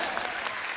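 Studio audience claps loudly for a singer on a TV comedy show, a dense, steady burst of applause filling the short moment with no talk over it.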